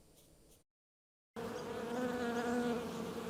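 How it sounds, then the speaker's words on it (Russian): Honey bees humming in a steady, loud drone that starts after a brief silence and continues unbroken, close and dense like a busy hive. "Каждый день слушайте беспокойный гул пчел"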